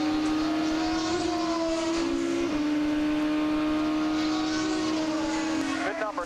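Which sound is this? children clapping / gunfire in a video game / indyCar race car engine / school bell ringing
indyCar race car engine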